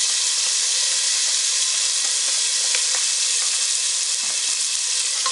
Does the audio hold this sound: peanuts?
yes